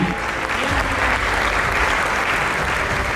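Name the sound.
audience applause for university delegations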